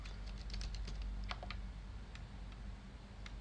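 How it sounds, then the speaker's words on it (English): Someone types on a computer keyboard, with a quiet scatter of soft key clicks in short bursts against a faint background hum. "I will just type something."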